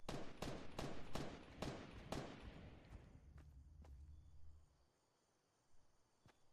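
Rapid volleys of gunfire from the video game Fortnite, about six sharp shots in the first two seconds followed by a few sparser, fainter reports that fade toward near silence, one last distant shot near the end.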